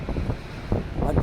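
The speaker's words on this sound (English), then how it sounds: "on this cold, windy day in downtown Halifax" Strong gusting wind buffets the microphone on a cold day in downtown Halifax, a loud continuous low rumble with surging bursts.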